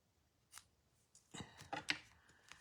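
Scissors snipping through ribbon during a papercraft project, a few quiet crisp cuts, a lone one followed by a quick cluster, close and faint with no talk.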